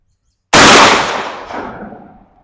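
A single 12 gauge Remington 7/8 ounce Slugger slug fired at an outdoor range, one sharp, loud blast that rings out and decays over about two seconds, with no talking.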